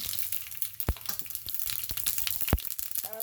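Mustard seeds crackle and pop in hot oil for a Kerala vazhappindi (banana stem) curry, giving a steady close frying hiss broken by sharp loud pops at irregular moments.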